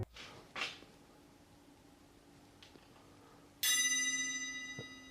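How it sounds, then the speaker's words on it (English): A bell strikes with a bright, sustained ringing tone that lingers and slowly decays, preceded by faint scattered knocks and rustles in a quiet room. "It's like a bell. It rings over a period of time."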